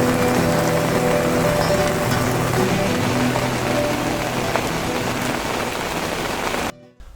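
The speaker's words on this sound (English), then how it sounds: "how bad was that rain? It literally come on within a minute." Heavy rain pours steadily onto a pond beside a carp fishing swim, a dense, loud, continuous hiss and patter that holds for several seconds before cutting off abruptly near the end.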